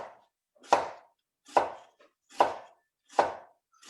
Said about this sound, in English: you're cutting the onion the way I do